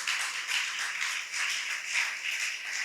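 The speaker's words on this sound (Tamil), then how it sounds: "கைகளை தட்டி ஆரவாரம் பண்ணலாமா?" A church congregation claps hands and cheers during a Tamil worship service, producing a steady, loud wash of clapping with gently pulsing swells throughout.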